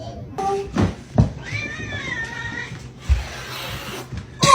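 A pet cat meows after being kissed, a drawn-out wavering meow in the middle with brief sounds around it, close by, while people talk.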